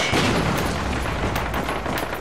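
Grenade explosion in the video game Metro Conflict, a dense, loud boom with a sustained rumbling roar that fills the whole moment without a break.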